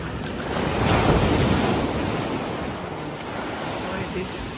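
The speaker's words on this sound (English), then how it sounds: "Boy, this wave is really fast." Ocean surf breaking on a beach, a steady broadband wash of water that swells loudest early and then settles into a continuous roar, with wind buffeting the microphone throughout.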